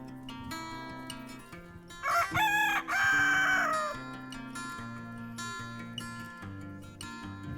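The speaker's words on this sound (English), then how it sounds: "You are one noisy rooster." A rooster crows loudly once, a long strained call rising and holding, over a steady background of quieter birds and farmyard noise.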